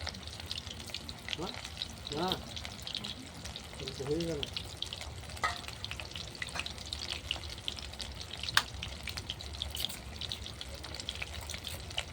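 Pakoras made with beef fat fry in hot oil, giving a steady low sizzle with occasional clinks and stirring noises, while someone talks briefly over it.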